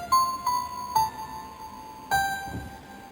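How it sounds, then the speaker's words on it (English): Bit-crushed grand piano gives a few sparse, gritty notes with distorted, digital-sounding decay, playing quietly in the bridge of a song with no voices. "With bit crushing, it sounds like this."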